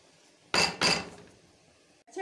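Panjiri made with wheat flour is scooped out of a pan with metal utensils, giving two close, bright clattering scrapes about a quarter second apart, then fading to quiet.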